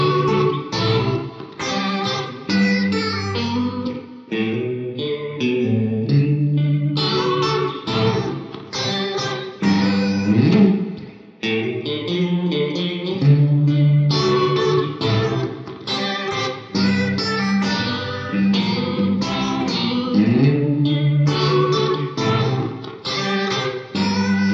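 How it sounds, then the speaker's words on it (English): Guitar chords and notes ring out with a swirling, warbling rotary-speaker effect from a Strymon reverb pedal, played continuously at steady volume with no talking. "this is the kind of thing that's going to sound like a spinning speaker or a rotary type effect."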